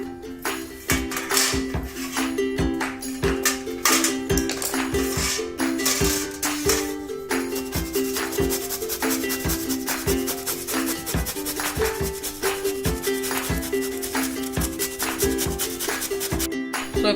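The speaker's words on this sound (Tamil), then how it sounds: "ஸோ இப்போ சுரக்காவை நைஸாக திருவியாச்சு." Peeled bottle gourd is rubbed against a slicer in quick, close, rhythmic strokes, each pass giving a raspy grating scrape that repeats steadily throughout.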